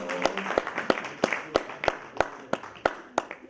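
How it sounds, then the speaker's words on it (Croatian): An audience applauds Usman Musa at a Croatian Cultural Society event, clapping in a steady, even rhythm of about three sharp claps per second throughout, with faint murmuring underneath. "Može jedan aplauz za Usmana"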